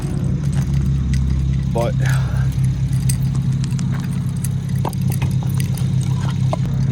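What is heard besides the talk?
BMW 335i engine running after cold start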